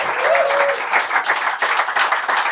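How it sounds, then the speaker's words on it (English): A loud round of applause from a meetup crowd in Dublin, close and continuous clapping with a brief voice at the start. "Give yourselves another round of applause for being here"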